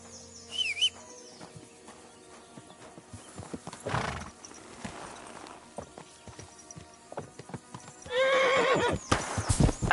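Horse in Kingdom Come: Deliverance 2 neighing and whinnying near the start and again near the end, with scattered clip-clop hoof steps and faint birdsong in between.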